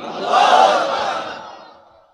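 A large crowd at an open-air Islamic sermon chanting Allahu Akbar in unison after a takbir call, one swelling collective shout that rises, holds and fades over about two seconds.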